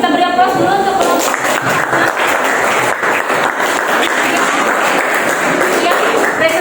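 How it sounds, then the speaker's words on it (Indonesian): Classroom applause for a student group after their presentation, a dense, steady patter of many hands clapping throughout with some voices mixed in. "Kita beri aplaus dulu untuk kelompok."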